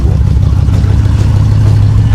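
A classic Lincoln Continental with a large 7.6-litre V8 runs loud and close just after starting, a deep, steady engine rumble with a sustained low hum and slight revving pulses.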